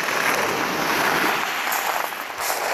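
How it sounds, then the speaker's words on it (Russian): Black Sea waves wash onto the shore in a steady, broad rushing hiss, close and continuous with slight swells, and no voices. "просто шум волны"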